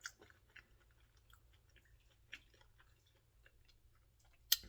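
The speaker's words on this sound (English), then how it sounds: "I'm done chewing" Soft, close chewing of a spinach cup appetizer, faint wet mouth clicks and crunches spread irregularly, with a sharper bite or click at the end and no talking.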